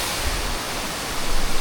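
A waterfall at Solaba Ella roars as steady broadband rushing water, close and continuous, swelling slightly louder near the end.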